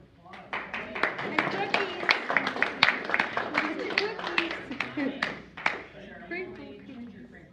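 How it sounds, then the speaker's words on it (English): An audience at a meeting of a local society breaks into a few seconds of lively clapping, close and dense, which then tapers off, with voices chattering over it. "Let's give Erin another round of applause"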